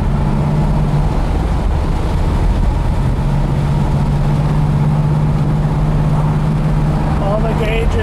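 Steady engine hum and road noise from a 1965 Pontiac GTO two-owner resto-mod cruising straight down the road, a constant drone with a faint voice talking over it.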